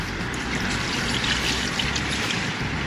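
Mineral spirits pour over engine parts from a 2000 Ford F-250 intake setup, a close, steady trickling splash that runs continuously without talk.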